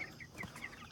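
Chickens cluck softly around a chicken tractor, a few short, faint repeated clucks spaced in quick rhythm against a quiet outdoor background.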